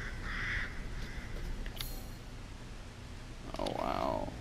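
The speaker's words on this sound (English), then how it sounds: "Oh, yep, there's crows." Crows cawing in the game Resident Evil Village, two hoarse calls near the start and end over a steady ambient hum, moderately distant and without talk.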